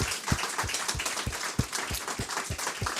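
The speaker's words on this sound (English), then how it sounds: "A round of applause for all the people who did amazing presentations and work." Applause from an audience after hackathon final pitches fills the room, steady overlapping clapping with dense broadband patter and faint rhythmic low thumps running through it.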